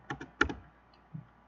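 A few quick keystrokes tapped on a computer keyboard while entering a tab escape sequence in Java code, with four light clicks in a brief burst, then a softer knock after a pause.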